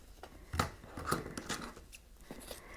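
Scissors trimming chair upholstery fabric around screw holes on a folding chair, a handful of soft close snips and fabric rustles in a quiet room.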